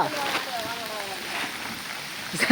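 Heavy rain pours steadily through a forest, a dense broadband hiss from start to finish, with a voice talking over it and a brief sharper burst near the end.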